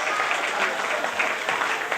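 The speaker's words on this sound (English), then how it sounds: "put a nice round of applause for the little band tonight" An audience applauds a live band at a Caribbean music show, a dense, steady patter of clapping hands lasting a couple of seconds, fairly close and even throughout.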